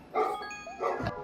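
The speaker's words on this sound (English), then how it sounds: "And my dog's barking again." A dog barks twice indoors, a short muffled pair of woofs heard from another room, moderately faint under a steady background tone.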